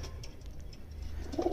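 Soft, low coos from Shahjahanpuri pigeons murmur briefly at close range over a quiet background, with a faint bird call rising near the end.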